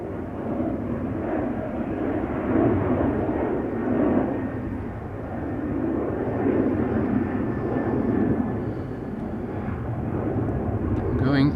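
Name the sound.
SunExpress airliner taking off at Schiphol Polderbaan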